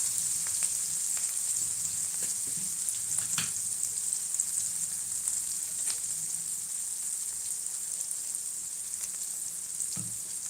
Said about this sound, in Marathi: टोमॅटो होत आहे मसाला टाकलेला आहे तो छान शिजत आहे